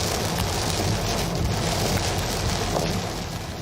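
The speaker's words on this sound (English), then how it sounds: "We caught this pounding rain on I-75 in Auburn Hills" Pounding rain on I-75 in Auburn Hills during a storm, a dense, steady roar of heavy downpour hitting the road and vehicles, loud and continuous throughout.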